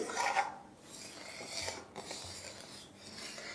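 A spoon scraping and stirring milk and sugar in a pan over high flame, a steady rasping rub with sweeping strokes, close and alone without talk.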